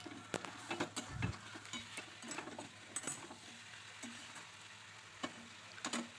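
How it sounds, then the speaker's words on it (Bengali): Boiled country chicken and potatoes sauté in spiced oil over medium heat for a thin curry, a soft steady sizzle with intermittent spoon scrapes and taps against the pan, close and fairly quiet. "দিয়ে মোটামুটি 5-7 মিনিট ধরে মিডিয়াম আঁচে কষিয়ে নেব।"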